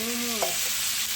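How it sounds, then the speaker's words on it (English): A can of diced tomatoes with green chilies hits a hot pot and sizzles, a steady frying hiss with a brief stir partway through, close and fairly loud, with no one speaking. "Oh, listen to the sizzle."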